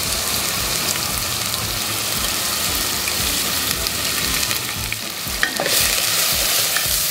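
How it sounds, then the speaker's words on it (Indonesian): Ground spice paste sizzles and spatters steadily in about 20 ml of hot oil in a pan, stirred now and then with scraping touches, a close continuous frying hiss for a red-spiced duck dish. "Kita tumis sampai harum"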